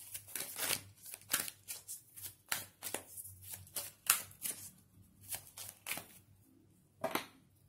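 Tarot cards shuffled by hand in a card reading, a steady series of crisp riffling bursts and soft slaps, fairly close and clear, with no talking over them.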